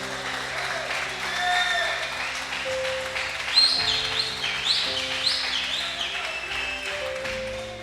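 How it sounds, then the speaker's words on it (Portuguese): A church congregation claps for a preacher, a moderate wash of applause under sustained musical tones, with a few brief high chirps standing out above the clapping. "Queria que vocês recebessem com a salva de palmas ao Senhor"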